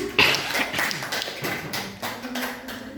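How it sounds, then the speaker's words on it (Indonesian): A small school class claps for a classmate, a short, uneven burst of individual hand claps and taps that starts strongly, then thins into scattered claps while faint murmuring and a low tone carry beneath. "Beri tepuk tangan."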